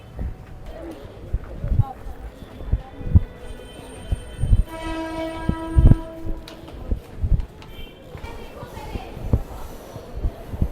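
A Mumbai local train out of Mumbai Central rattles along with rhythmic wheel thumps and clatter, a horn sounding midway, while people talk over the noise.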